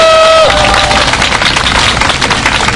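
Dense, steady applause and clapping from a large crowd at an outdoor candlelight rally calling for a Sewol special law, loud and continuous throughout, with a brief tone fading at the start.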